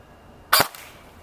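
A Barra 400E Gen 2 electric BB gun fires a single sharp, loud, close shot, a snappy crack that dies away quickly against quiet surroundings.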